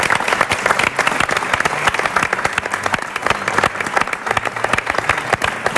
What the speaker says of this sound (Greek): Ένα χειροκρότημα στέλνω στους εαυτούς σας, καταρχήν.